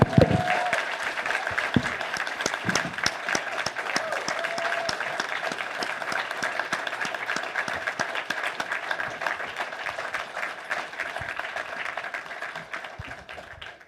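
Sustained applause from the audience at a convention's closing ceremonies, a dense wash of many hands clapping that holds steady for the whole stretch, with a little cheering and a voice or two mixed in near the start.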